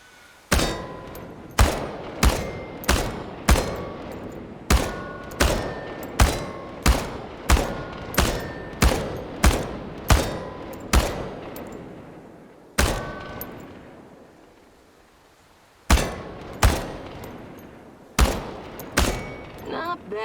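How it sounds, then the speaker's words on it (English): Automatic weapon fire at tin cans in the survival RPG Chernobylite: loud, sharp shots in quick strings, each with a short echoing tail, then a lull before several more bursts. "The biggest challenge is compensating for recoil in automatic firing mode."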